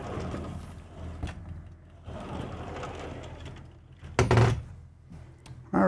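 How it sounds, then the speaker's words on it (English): A pocket door in a 2024 Renegade Explorer 40ERB motorcoach slides and rumbles, with soft scraping movements followed by a sharper thunk as it closes, heard up close in a quiet interior. "You're also going to have a pocket door here for privacy."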